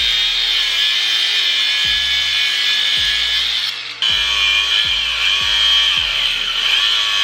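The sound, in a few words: cut-off tool cutting car transmission assembly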